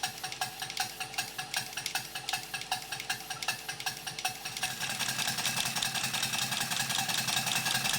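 Small engine driven from its crankshaft via an eccentric, running with a rapid, even mechanical chuffing and clicking rhythm that grows denser and louder toward the end.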